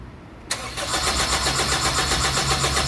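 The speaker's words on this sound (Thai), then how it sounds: "น้ำมันมาแล้ว สตาร์ทเลยครับ" A 2003 Honda CR-V engine cranks and catches after a quiet pause, then settles into a steady, fairly close idle with a rhythmic pulse. No voices are heard.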